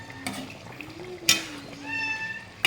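A hungry pet cat gives a soft, drawn-out meow, then a higher wavering meow, close by in a quiet kitchen, with a few faint clicks and taps around it.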